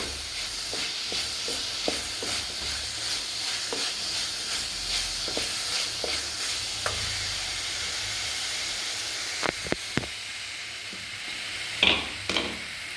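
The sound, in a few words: masala powder frying in pan for egg gravy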